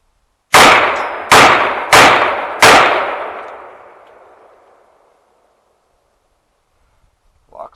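Four loud shots from an AR pistol with a new upper assembly fired in quick succession outdoors, each crack ringing out with a long decaying echo, followed by silence and a brief faint sound at the end.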